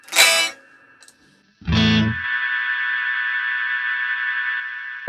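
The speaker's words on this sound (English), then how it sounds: "This is a very kind of sparkly reverb, a lot of top end on this." An electric guitar played through the Ice Verb reverb in Guitar Rig 6 with its freeze switch: a strum is caught and held as a steady, sparkly, bright sustained drone that hangs evenly for several seconds.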